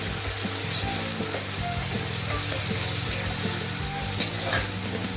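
Red chili powder frying and being stirred in a pan, a steady close sizzle with repeated scraping stirs throughout, no voices.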